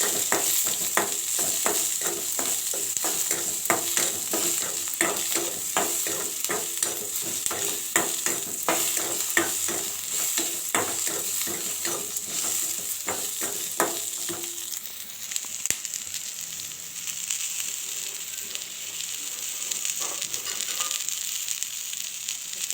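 Washed, deseeded large gooseberries sauté in a pan, a continuous sizzle with regular rhythmic spatula scrapes that fade out, leaving a softer, steady hiss.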